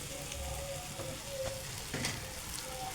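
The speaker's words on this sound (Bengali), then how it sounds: "ঈদের দিন সকালে আম্মু পোলাও রান্না করছিল।" Polao rice fries in a pan on an Eid morning, giving a steady, soft sizzle with occasional stirring scrapes. It plays fairly quietly and continuously, with no talking.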